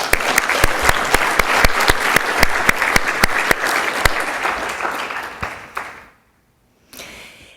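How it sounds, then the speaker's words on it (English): Loud audience applause at a myasthenia gravis patient conference, with sharp individual claps over a dense clapping bed, fading out and briefly resuming after a short silence. "So just a huge round of applause for our partners."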